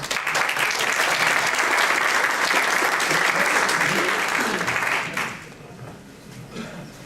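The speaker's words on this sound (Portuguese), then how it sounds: "uma salva de palmas para ela" Loud, dense applause from an audience welcoming a speaker to a talk on feminine archetypes, sustained for about five seconds before quickly thinning into a few scattered claps.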